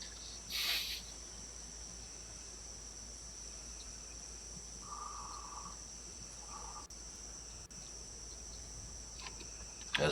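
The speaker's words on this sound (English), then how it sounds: "Okay, I hear the crickets now." Crickets chirp outside during a thunderstorm and tornado warning, a faint, continuous high trill, with a couple of brief bird-like calls and a short knock, quiet and distant.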